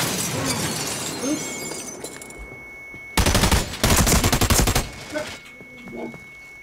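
Bursts of rapid automatic gunfire in the online shooter America's Army: Proving Grounds, loud and close, over a steady game ambience with a high sustained tone.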